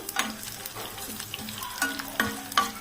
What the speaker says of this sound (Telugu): లైట్గా ఫ్రై అయిన తర్వాత ఉల్లిపాయ ముక్కలు కూడా అందులో వేసేసుకోవాలి ఒకసారి కలుపుతూ వేయించుకోవాలి